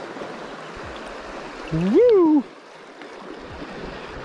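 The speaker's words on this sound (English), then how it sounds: "it is pretty fast water" Fast water in a trout river rushes in a steady, continuous roar, with one brief excited shout from a person partway through.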